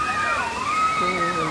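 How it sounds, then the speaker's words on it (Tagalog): A waterfall at Bato Spring in San Pablo, Laguna, makes a constant rushing wash beneath people talking nearby. "Ganda ng falls."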